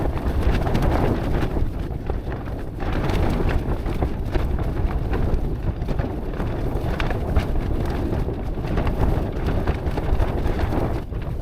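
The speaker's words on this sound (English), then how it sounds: "Gusts over 50 miles an hour." Strong wind gusting over 50 miles an hour buffets a microphone at a wild campsite in rough, rumbling gusts, a loud continuous roar with surges and brief lulls.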